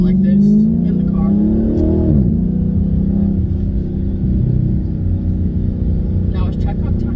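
A Jeep Trackhawk engine drones loud and steady inside the cabin, its pitch rising and dipping as the car accelerates, with people talking over it throughout.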